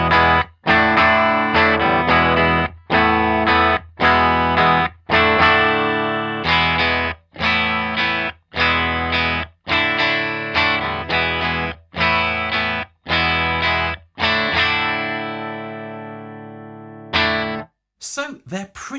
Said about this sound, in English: let's set the amp pretty clean and flat and see what the fundamental differences are between the sound of this Strat and that Les Paul